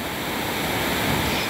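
Rushing water at a jungle waterfall near Baños de Agua Santa, Ecuador, after a hike, a dense, steady broadband roar that fills the whole clip without pause, close and moderately loud.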